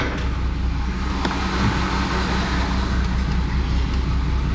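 Wrecked BMW car with no headlights rolling slowly in reverse out of a shop, a steady low engine rumble close by with no one speaking.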